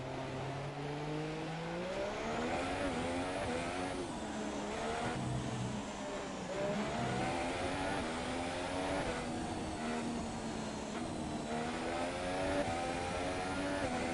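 Race cars in an online racing video game, engines droning and revving continuously with rising and falling pitch as several cars pass, steady and fairly close, no talk.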